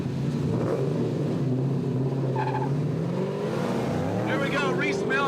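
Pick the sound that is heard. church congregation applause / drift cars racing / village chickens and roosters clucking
drift cars racing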